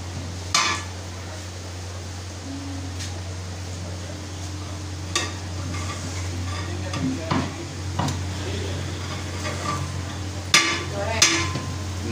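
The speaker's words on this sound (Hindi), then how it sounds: "बिल्कुल हल्के हाथ के साथ प्याली के साथ मिक्स करेंगे ताकि हमारे जो राइस हैं वो टूटे ना" Sindhi degi biryani rice is mixed gently with a cup in a large pot. Sparse clinks and soft scrapes sound over a constant low hum, with a few sharper knocks.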